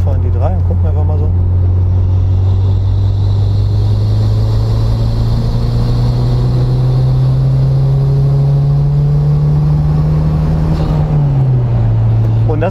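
Engine of a 1991 Toyota Celica Turbo 4WD pulling in third gear, a loud, close droning hum that climbs steadily in pitch, then drops slightly at the end.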